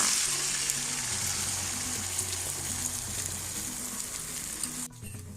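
An egg sizzles and crackles in a hot pan oiled with olive oil, a steady close-up frying hiss that drops off abruptly just before the end.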